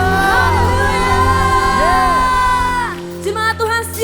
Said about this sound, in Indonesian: Mari kita bersama kasih tepuk tangan, sorak-sorai kemuliaan bagi Tuhan Allah kita Yesus Kristus.